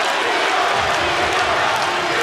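Arena crowd at a Metamoris grappling match roars steadily, a dense, continuous cheer filling the space without breaks or speech.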